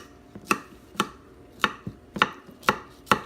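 A knife chops steadily through a layered salad on a board, cutting it into squares with about seven crisp, close taps at a loose, uneven rhythm and no voices.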